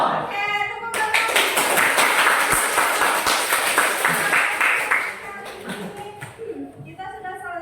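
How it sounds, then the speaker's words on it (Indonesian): A school class claps their hands together, a burst of many hands clapping at once that fades over several seconds, with a voice speaking before and after. "tepuk tangan"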